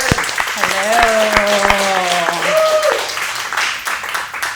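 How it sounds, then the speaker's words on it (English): Audience clapping at a talk on board culture, loud and fairly close, with a voice speaking over the first couple of seconds before the clapping continues and fades. "give them an applause"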